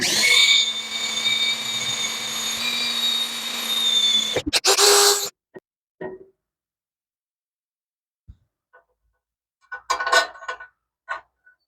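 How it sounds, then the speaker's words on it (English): A power drill whines steadily for several seconds while drilling holes for a log splitter modification, then stops abruptly, followed by scattered clicks and handling noises. "Now to drill the holes."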